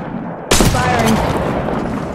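Gunfire in the Apex Legends Mobile video game: silence, then a loud burst of shots erupting at once and continuing as a dense, sustained rattle, up close.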